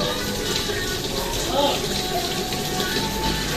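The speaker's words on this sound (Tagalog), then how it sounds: "mapupuno siya at matatapon yung tubig" Water pours into an automatic washing machine as it fills, a steady broadband gushing rush that holds at a constant level throughout, with faint background sounds.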